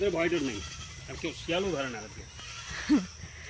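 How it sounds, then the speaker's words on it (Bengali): A goat bleats once, short and fairly close, in overgrown countryside, with a person talking over most of it. "এই দেখো একটা ছাগল"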